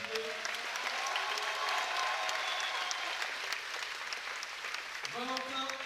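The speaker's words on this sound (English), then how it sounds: "Un tonnerre d'applaudissements pour celle, s'il vous plaît" An audience at a competition meet breaks into sustained applause with scattered cheers, moderately distant and steady, as an announcer's amplified voice carries over it.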